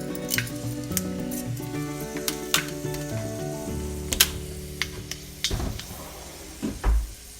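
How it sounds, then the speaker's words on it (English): A small piece of pork belly drops into hot frying oil for Filipino lechon kawali and sizzles quietly, with occasional sharp clicks and pops of utensils and cookware nearby, no talk. "I test the oil by dropping in a small piece of the meat and see if it's going to start cooking"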